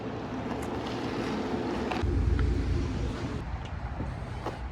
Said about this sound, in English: Corsa exhaust